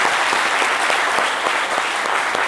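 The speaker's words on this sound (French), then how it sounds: "On va quand même applaudir ce monsieur." Audience applause during a televised talk show, a dense, loud burst of clapping that holds steady, with no talking over it.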